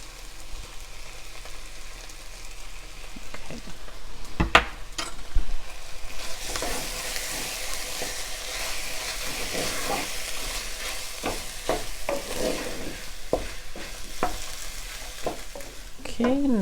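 Soybean chilli fries in a pan while garlic chili sauce is stirred through it, giving a soft steady sizzle broken by sharp scraping stir strokes at close range, without speech.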